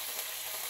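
Chicken sizzles in a frying pan, a steady close hiss of hot oil filling the short moment without speech.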